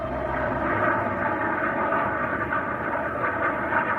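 A royal plane's aircraft engines drone steadily at Aberdeen Airport, a loud, continuous broadband roar with no pauses and no voices.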